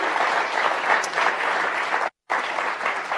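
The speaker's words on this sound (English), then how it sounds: "Can we give our officers a round of applause?" Audience at a congressional town hall in Del Mar gives a sustained round of applause for the security officers, dense even clapping throughout with a brief dropout partway through.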